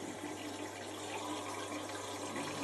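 A Beko WTG741R2A 7 kg, 1400-spin washing machine draws in water for its final rinse, a constant rushing, hissing flow that holds an even level from start to finish.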